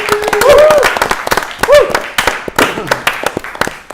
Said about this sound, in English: let's give a big round of applause for Kyle